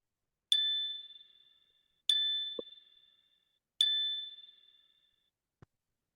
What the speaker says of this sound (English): have a nice little ding sound play each time you check off a task or to do in Notion